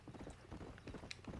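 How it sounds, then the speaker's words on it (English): Horse hooves clip-clop at a steady riding gait in the Red Dead Redemption video game, a close, rhythmic run of hoofbeats over a low rumble of background game sound. "Horse riding."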